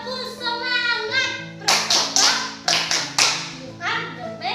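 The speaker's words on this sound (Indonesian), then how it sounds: "Sebelum itu, kita tepuk semangat dulu." Children's spirit clap: a group of kids claps several sharp rhythmic beats, bracketed by children's voices chanting and an adult speaking.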